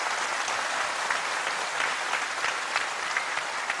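A studio audience claps in a sustained, dense burst of applause, steady and fairly loud throughout with no voices over it.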